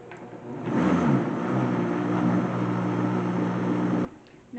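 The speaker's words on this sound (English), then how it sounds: "We're going to blend this." A blender whirs steadily while mixing an ice cream base containing salt, a loud continuous motor hum that starts abruptly and cuts off sharply near the end.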